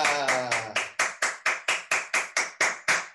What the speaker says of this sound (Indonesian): mari kita berikan tepuk tangan yang paling meriah untuk Pak Hendra Limantara